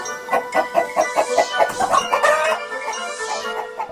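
Cartoonish chicken clucking from enemies turned into chickens by the Morpho Ray in Ratchet & Clank, a rapid run of close, loud clucks in quick rhythm tapering into a softer trailing squawk.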